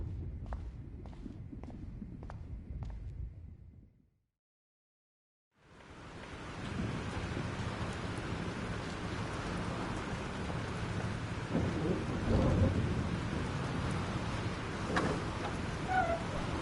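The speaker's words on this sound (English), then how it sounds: "This storm is real." A thunderstorm with heavy rain in the Life is Strange video game: a few sharp taps over rumbling, then a brief silence, then a dense, steady roar of rain with deep thunder rumbles underneath.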